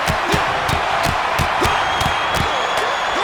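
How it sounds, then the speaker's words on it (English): Arena crowd in the WWE 2K26 wrestling video game, a dense, loud wash of cheering and roar with repeated sharp impact hits punctuating it evenly. "The fists are flying and this crowd is hot."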